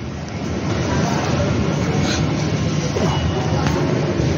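A Mumbai Metro Aqua Line 3 train near JVLR gives off a steady, loud broadband rumble and rolling roar that builds slightly and then holds evenly throughout, with no pauses.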